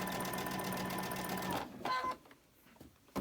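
A sewing machine stitches quilt blocks in a fast, steady close whir for about a second and a half, then stops, followed by a few small handling clicks.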